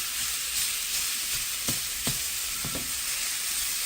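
Ground turkey sizzles in a pan with a constant bright frying hiss. A utensil breaking up the meat adds a few soft scraping knocks. No one speaks.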